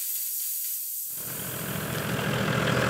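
Air hisses loudly and steadily from a 4WD tyre being deflated for driving on sand; the close, broadband rush starts after a second of quieter noise and holds on.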